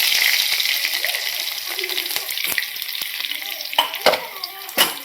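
Minced garlic and cumin seeds frying in hot oil in a home kitchen: a bright, steady sizzle with crackles and scattered sharp spits and pops, heard up close with no talking.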